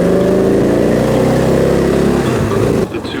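A Victory Vision Arlen Ness motorcycle engine growls loudly at high revs, then drops away sharply near the end as the throttle closes.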